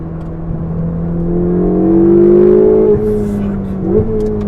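A Ferrari 488 GTB's turbocharged engine pulls hard and loud, its pitch climbing smoothly as the turbos spool up. The note drops at a gear shift, then rises again, heard from close by with no talk.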